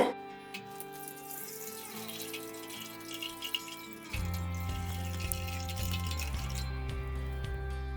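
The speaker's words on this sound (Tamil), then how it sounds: "இந்த தண்ணியை நம்ம வடித்து எடுத்துக்கலாம்" Liquid trickles and splashes steadily into a container as sour water is poured off from a jug, growing fuller and louder halfway through as the pour continues.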